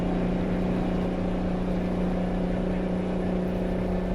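A truck engine in a trucking video game runs at a steady 40 miles an hour, a continuous droning hum with a strong low tone and no break, loud and unchanging throughout.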